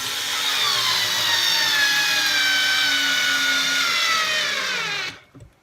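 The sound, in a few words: TopShak 4V cordless screwdriver driving a screw into wood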